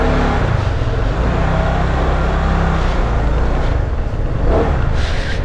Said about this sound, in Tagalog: start na natin, pandarin natin itong motorsiklo.